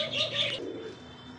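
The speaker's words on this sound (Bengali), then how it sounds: "তো বন্ধুরা আমার দেখতে পাচ্ছেন চমৎকার অস্ট্রেলিয়ান এক জোড়া ঘুঘু" A pair of Australian doves cooing and chirping close by, a bright burst of calls in the first half-second easing into softer, lower cooing with faint background hum.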